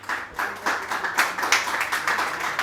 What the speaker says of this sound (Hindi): तालियां फिर कमजोर पड़ रही हैं